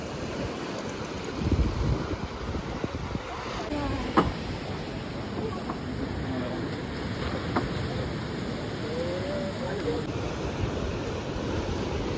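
Surf rolls and washes steadily in the distance on the coast of Crete at Agios Nikolaos, under gusting wind buffeting the microphone, a continuous seaside roar with a few faint thumps.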